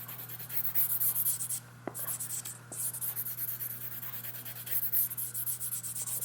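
Stropping compound rubbed like a crayon onto a StropMan leather strop, a steady close scratchy rubbing with rhythmic strokes and a couple of small knocks.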